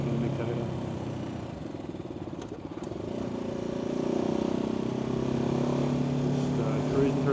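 BMW G310GS motorcycle cruising through back streets, a steady single-cylinder engine drone and wind rumble running continuously from start to end, rising slightly midway, with no clear speech over it.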